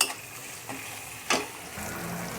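Lengthwise-cut tomatoes frying over high heat in a pan for a chicken dish, a steady close sizzle with a couple of brief stirring scrapes.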